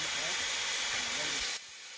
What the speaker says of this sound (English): the fireman has raised steam to above working pressure and the safety valves are lifting in preparation for the final climb